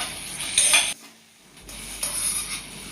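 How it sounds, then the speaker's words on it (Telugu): Sliced okra fries in a pan, with a loud stirring scrape at the start, a brief pause, then a steady sizzle of frying that comes back up close. "ప్రతి ముక్క ఫ్రై అయ్యే విధంగా మనం కలుపుతూ ఉండాలండి ఈ విధంగా"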